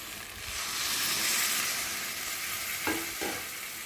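Cabbage and fish head curry frying in a pan as water is poured in, a loud continuous sizzle and hiss with a couple of brief knocks of a utensil near the end.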